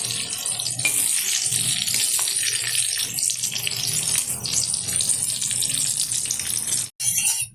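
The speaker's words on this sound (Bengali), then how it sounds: "ভালোভাবে পটলটা ভেজে নেব একটু লাল লাল করে।" Pointed gourd (potol) fries in hot oil as a loud, dense, continuous sizzle close up, holding steady throughout apart from a brief dip near the end.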